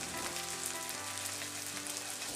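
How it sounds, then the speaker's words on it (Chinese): Egg fried rice, pressed flat in a hot wok, fries with a steady, even sizzle close by that continues without a break. "铺平之后再煎两分钟"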